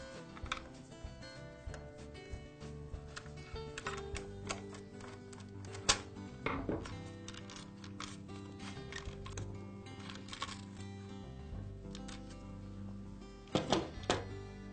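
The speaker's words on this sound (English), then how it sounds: "Now I'll remove the motor housing." Screws being removed and the motor housing taken off a two-stroke brush cutter during a piston ring change, a close series of small metallic clicks, ticks and occasional louder clunks with no talk.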